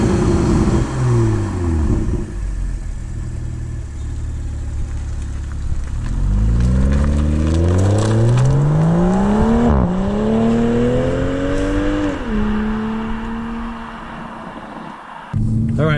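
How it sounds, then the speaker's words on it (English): A Toyota GR Supra with a 3.0-litre turbo engine pulls away and accelerates hard, loud rising revs climbing through several gear shifts close up, with tire noise, and no talking. "let's go take this thing for a spin because it's awesome."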